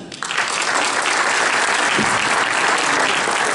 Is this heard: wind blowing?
no